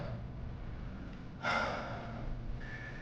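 Heavy breathing inside a stuffy cave, close to the microphone and faint, steady against a low ambient hum, with one sharp, louder inhale or gasp partway through.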